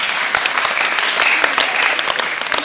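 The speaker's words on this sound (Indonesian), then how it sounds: "Tepuk tangan dong." Dense, steady audience applause from a crowd at a university agriculture faculty presentation, many hands clapping continuously and fairly loudly throughout with no pauses.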